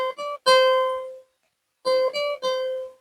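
Guitar notes picked one by one with no hammer-ons or pull-offs: a quick group of plucked notes, a short silence, then another similar picked phrase, each note ringing briefly and clearly up close.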